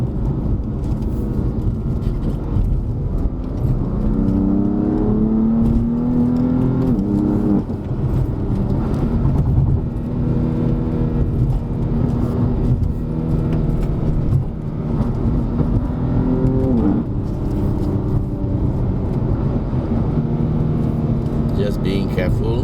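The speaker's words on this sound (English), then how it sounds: "on the way downhill in the M4, still in manual mode, and we're trying in sport" A BMW M4 descends a mountain road in manual sport mode, its engine droning loudly with rising and falling tones as it goes through the gears, heard from inside the cabin with steady road rumble and people talking over it.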